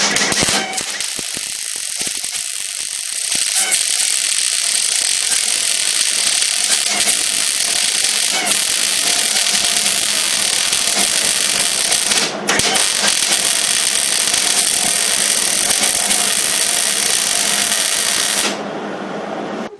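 A Hobart 140 MIG welder running shielding gas lays a bead, giving a steady loud crackling buzz that holds for several seconds, breaks briefly, resumes, then cuts off near the end.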